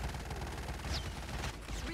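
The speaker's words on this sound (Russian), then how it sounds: "там сверху стреляет" Gunfire crackles in Call of Duty Mobile, coming from above: rapid, faint automatic bursts with a rhythmic rattle over a low rumble of in-game noise.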